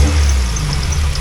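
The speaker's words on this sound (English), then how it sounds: "But it is idling on its own with no air idle control valve, no tune or anything." A Honda K20A3 engine fitted with cheap individual throttle bodies, untuned and without an idle air control valve, idles on its own with a steady, close, low-pitched rumble.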